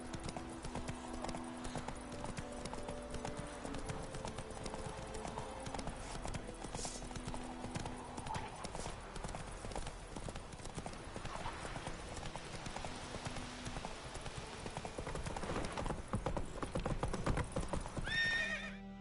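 Hooves of a horse clip-clop steadily in The Witcher 3, with a whinny or neigh rising over game music and ambience, loud and continuous throughout.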